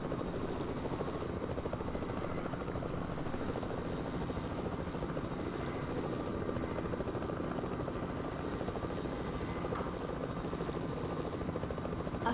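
A helicopter in Fortnite climbs steadily, its rotor and engine making a continuous loud whirring drone that holds constant throughout, with no voices over it.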